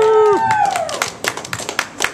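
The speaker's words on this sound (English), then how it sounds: "Keep clapping, he's not all the way up here." Scattered audience clapping for a poet at a reading in Albuquerque, New Mexico, a few sharp claps over a fading tonal sound at the start, thin and uneven rather than a full ovation.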